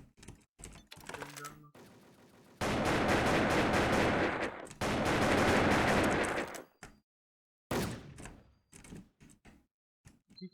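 Gunfire in a clan-match shootout video game: rapid automatic bursts in two long loud stretches, with short single shots and sharp pops before and after, close and dominant with gaps of near silence.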